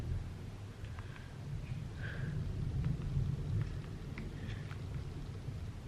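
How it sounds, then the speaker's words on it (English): Thunder during a storm, a faint low rumble that swells and fades in the background over several seconds, with light scattered higher sounds above it. "It's still thundering."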